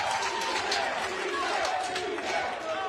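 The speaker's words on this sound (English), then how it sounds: "CJ is pumping up the crowd, and we have a CJ chant" At a pickleball match, a large crowd chants a player's name, a loud, dense mass of rhythmic voices filling the venue continuously with a rowdy, rising energy.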